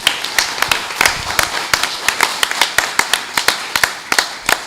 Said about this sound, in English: If you guys could stand and everybody cheer for them